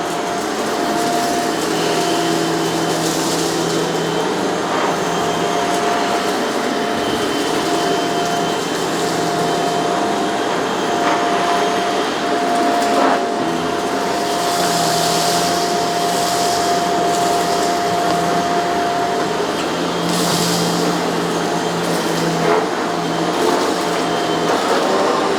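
A Shark CZ351 canister vacuum cleans carpet with a continuous loud motor whine and airflow. Shifting scrubbing surges rise and fall as the head passes forwards and backwards.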